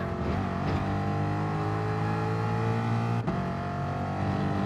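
Ford Mustang race car engine in Gran Turismo Sport, droning steadily under load in a low gear with harmonic tone, one brief dip partway as the throttle eases, then holding on.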